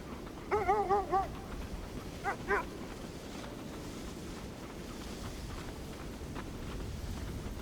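Dogs barking in the video game Kona 2: Brume, a short burst of several sharp barks followed by two more, heard over a steady bed of wind and outdoor ambience.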